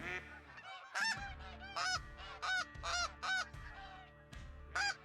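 Snow geese honk as they circle in to land on a morning hunt, a series of loud, nasal calls in bursts of one or two, fairly close and clear with no talking.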